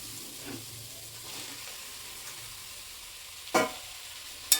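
Potatoes and radish sautéing in a pan, a faint steady sizzle with light stirring, broken by two sharp scraping clanks near the end.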